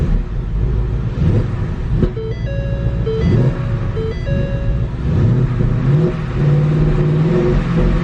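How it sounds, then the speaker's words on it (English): A 2015 Ford Mustang GT engine idles roughly, rumbling continuously with uneven pulsing and a few rising revs, shaking the car, close and fairly loud, with no voices. "I'm a little concerned about how this vehicle is running."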